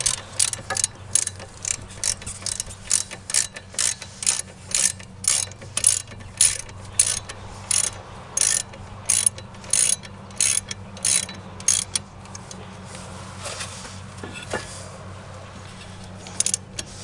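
Ratchet clicking in quick repeated bursts while brake bolts are tightened back down on a 2010 Dodge Challenger SRT8 during a front brake and rotor install. The bursts are close and steady for about twelve seconds, then quieter workshop noise follows.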